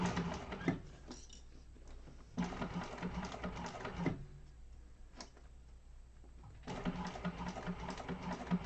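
A sewing machine stitching quilt binding, rapid rhythmic ticking in bursts broken by short pauses, near and fairly quiet.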